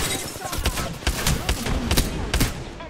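Gunshots in a video game shooter crack out in an irregular series of sharp bursts, loud and close over a busy background.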